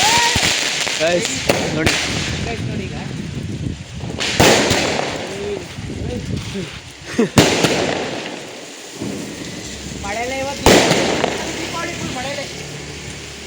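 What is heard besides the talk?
firecrackers going off at Deepawali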